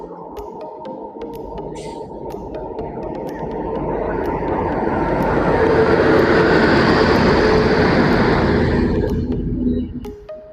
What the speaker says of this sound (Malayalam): എറണാകുളം ടാറ്റാനഗർ എക്സ്പ്രസ്. അപ്പുറത്ത് കൂടെ മറ്റേ മധുരയിൽ നിന്ന് കോയമ്പത്തൂർ പോകണ ഇന്റർസിറ്റിയും കയറി വരുന്നുണ്ട്.